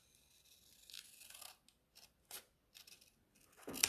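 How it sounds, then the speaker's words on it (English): Scissors snip through material on a diagonal in a series of short, quiet cuts at an uneven pace, with a brief sharper rustle at the end. "I'm going to cut this on a diagonal."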